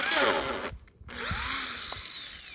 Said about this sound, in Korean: 뽕나무에다가 드릴을 뚫고 있네요.